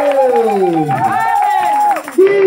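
A church congregation in Montauban loudly acclaims Jesus, with many voices shouting and cheering together in long, rising cries close by, a brief dip, then another burst.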